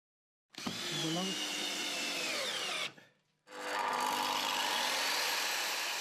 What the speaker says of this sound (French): On fixe cette dernière avec des vis.